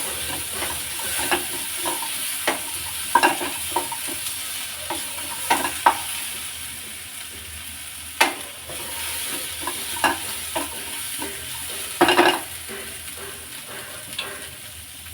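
Chopped tomato stirred in a frying pan for a basale soppu (Malabar spinach) sambar, a steady sizzling hiss broken by repeated scraping clinks of the spoon against the pan, close and continuous.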